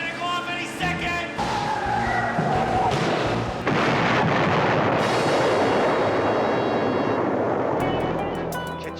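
A bomb blast in a Knight Rider KITT car scene erupts into a loud, sustained, rumbling roar that swells midway and lingers for several seconds, close and overwhelming.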